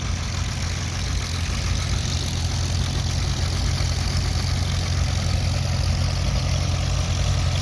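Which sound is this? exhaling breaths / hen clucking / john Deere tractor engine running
john Deere tractor engine running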